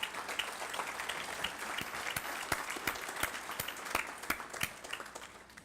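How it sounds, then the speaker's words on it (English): Audience applause for Kathy Chavers, newly elected president of the Minnesota Chippewa Tribe, at a State of the Band gathering: a steady mass of clapping hands, dense and even throughout, with no voices over it. "So I'd like to give Kathy a round of applause for that."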